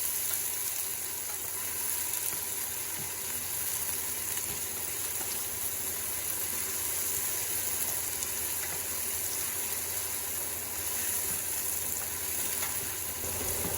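Onions browning in a pan for a chicken and red lentil stew, a steady, even sizzle that holds unbroken for the whole stretch at moderate volume, close up and free of speech.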